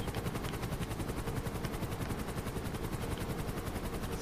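A helicopter's rotor thumps rapidly and steadily up close in Grand Theft Auto V Online, a loud continuous chopping drone with no other sounds.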